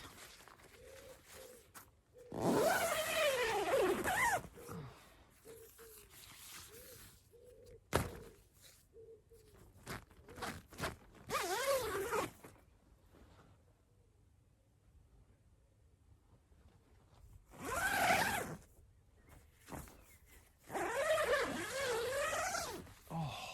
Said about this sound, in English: So yeah, I'll zip it up, show you what it's like.